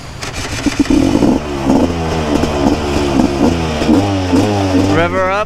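A flooded motorcycle's engine sputters and then revs in a rising, uneven series of pulses with some clatter, close and loud, while a voice talks over it.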